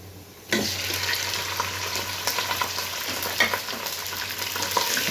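Chicken pieces frying with onions browned to a deep colour, giving a loud, steady, dense sizzle that starts abruptly and holds throughout, with faint stirring clicks mixed in.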